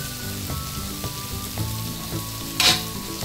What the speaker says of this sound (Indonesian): Kita tumis lagi.